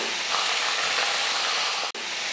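Potato slices frying in a pan with a little sautéed garlic give a loud, steady broadband sizzle and hiss that fills the whole clip, broken only by a brief dropout near the end.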